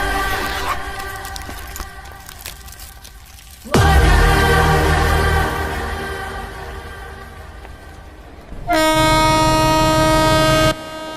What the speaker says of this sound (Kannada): ರೀ ಮೇಡಮ್, ಅಲ್ಲಿ ಟ್ರೈನ್ ಓಡ್ತಾ ಇದೆ